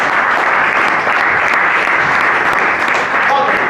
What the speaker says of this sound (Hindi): कंपनी के एनिवर्सरी के लिए एक बार जोरदार तालियां हो जाएगा